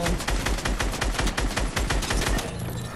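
Rapid automatic gunfire in a video game, a dense, steady stream of loud shots repeating quickly for a few seconds, alone without talk.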